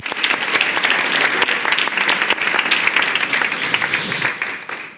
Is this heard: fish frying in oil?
no